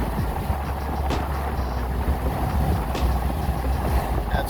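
A pickup truck with 488 gears, 35-inch tires and a six-speed transmission cruises in sixth gear at 70 mph and 2,500 RPM, a steady low engine drone under constant road and wind roar, with a couple of faint clicks.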